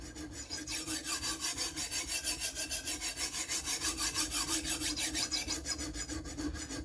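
A knife is sharpened on a clamped sharpener, steady rhythmic back-and-forth rasping strokes, about four per second, close and moderately loud, with no talking.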